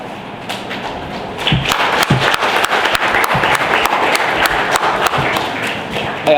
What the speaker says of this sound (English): I request Professor Monica Sadananda to welcome with an applause.